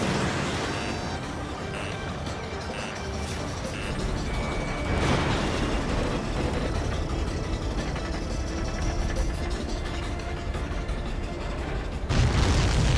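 Combat in the Ace Combat 7 video game: a dense, continuous roar of explosions and jet and mechanical noise, loud and sustained, with a heavier burst near the end.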